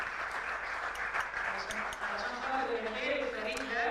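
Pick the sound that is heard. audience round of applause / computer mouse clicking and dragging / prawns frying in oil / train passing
audience round of applause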